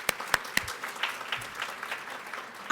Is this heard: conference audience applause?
yes